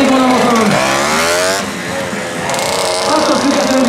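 A stunt motorcycle engine revs hard in rising and falling sweeps at a 2014 streetfighter show in Szombathely, loud and close, with an announcer talking over it throughout.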